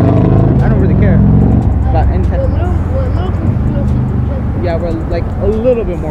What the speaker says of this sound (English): That's traffic.